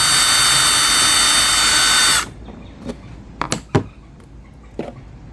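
A power drill whines loud and steady while boring holes in a BPS Prowler 12-foot jon boat for a Scotty 141 transducer mount, then cuts off abruptly, leaving a few scattered knocks and handling thumps.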